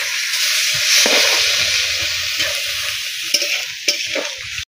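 A village-style cauliflower curry sizzles and fries in a pan while being stirred, with a steady hiss and intermittent scraping clinks of the spoon, close and alone without talk.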